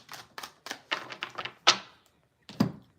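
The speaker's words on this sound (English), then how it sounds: "Let me just shuffle these cards" A deck of cards is shuffled by hand during a live reading session, giving a run of quick, close riffling taps and flicks in short bursts, then a brief pause and one final snap.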